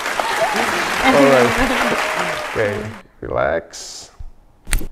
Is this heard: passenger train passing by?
no